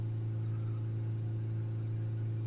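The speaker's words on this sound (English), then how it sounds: "The engine, I have just started it." A cold Ford Transit Custom diesel engine, just started, idles with a steady low drone and a faint mechanical whir throughout, close and continuous with no talk.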